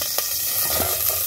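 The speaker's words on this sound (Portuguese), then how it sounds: "Colocou o óleo, agora ela refoga um pouquinho." Hot oil sizzles steadily in a pan on the stove at the start of cooking fish in coconut milk in a rural kitchen, a loud, continuous close-up hiss with light crackles and no speech.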